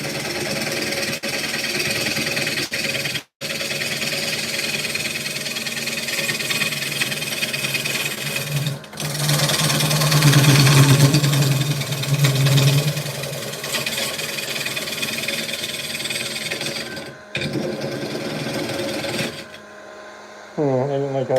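A wood lathe turning a bowl keeps up a continuous mechanical hum and grinding drone as a cutting pass is made, with a few brief breaks and a short voice at the end.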